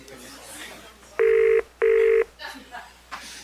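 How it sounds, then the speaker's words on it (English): A telephone rings twice in two loud electronic bursts with a short gap between them, with faint room noise and murmuring around them. "Where is that phone ringing?"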